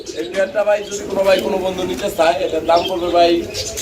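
Pigeons at a sale coo repeatedly in soft, rolling calls close by, the cooing blending with talk from people nearby.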